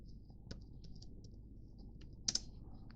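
Computer keyboard keys tapped while entering text into spreadsheet cells, a steady run of faint, quick clicks with a couple of sharper keystrokes near the end over a low background hum.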